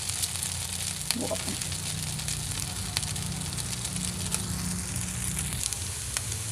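Egg-dipped bread fries in a pan with a soft, steady sizzle and occasional crackles, fairly quiet, while a voice speaks briefly.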